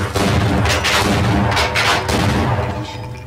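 A grenade blast in the video game Half-Life, loud booming explosions with rumbling debris filling the whole three seconds, several heavy bursts close together, no voices.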